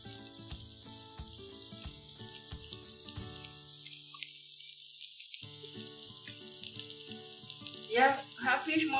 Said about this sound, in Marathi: आपल्याला, कमी तेलावर हे फ्राय करायचे।